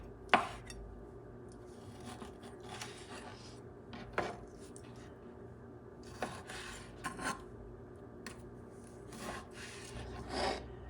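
A knife slices beef heart into smaller pieces on a board, giving scattered, irregular scraping cuts with quiet pauses between them and a low steady background hum.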